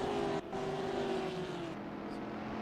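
A race car engine in a racing video game runs steadily at high revs, holding a sustained whine that dips slightly partway through, with no voices over it.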